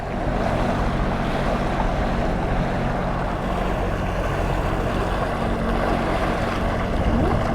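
A jet ski skims over sea waves, its engine a loud steady drone mixed with rushing water and wind across the whole stretch, with no voices.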